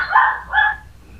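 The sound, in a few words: Pomeranian Chihuahua dog barking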